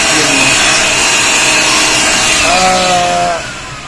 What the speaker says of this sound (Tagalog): Ito test ko ngayon yung vacuum.